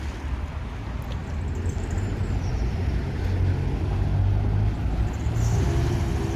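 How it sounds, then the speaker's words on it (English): Steady roar of road traffic on a busy high street in Duston, with car engines and passing vehicles rumbling close by, a low continuous wash that swells slightly in the second half. "So hopefully the traffic noise isn't too bad that you can't hear what I'm talking about"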